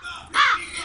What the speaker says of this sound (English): Look, there's a bird.